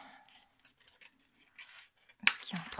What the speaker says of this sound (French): on coupe ce qu'il y a en trop